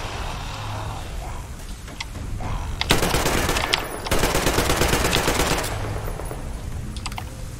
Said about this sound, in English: Shotgun works.